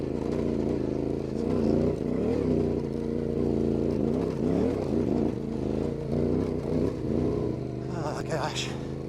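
A brand-new 2025 Yamaha Ténéré 700 (T7) adventure motorcycle is ridden, its engine droning and revving up and down steadily throughout, with a voice talking over it.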